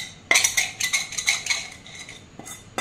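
Hot sesame and jaggery mixture stirred in a ghee-greased metal plate, a run of close, bright spoon-on-metal scrapes and clinks in an uneven rhythm, loud and alone.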